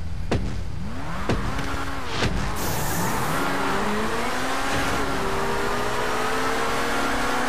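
Cars race in GTA V Online with loud engine roars, rising revs and tire squeals and skids layered over each other, continuous and close throughout.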